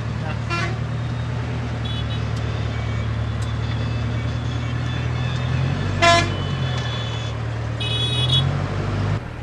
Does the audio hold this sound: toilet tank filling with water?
no